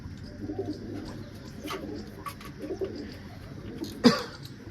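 Soft, low cooing of pigeons, faint and close, repeating unevenly over a quiet background with a brief sharper sound near the end.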